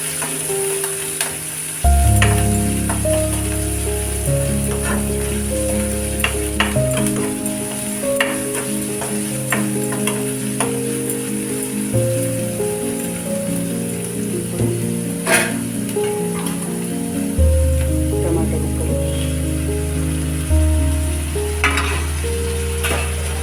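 Potato pieces fry in a pan for a potato pachadi, giving a steady, loud hiss that runs the whole time, with occasional stirring clatter and no voices.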